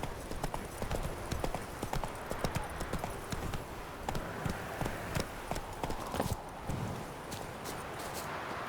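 Horse hooves clip-clop steadily in The Witcher video game, a close, continuous run of hoofbeats with a soft ambient bed, no talk over it.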